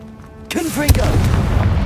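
A Confringo fire spell from Hogwarts Legacy, a video game, bursts into a loud explosive boom just after a short spoken incantation, followed by a sustained low rumbling roar and crackle.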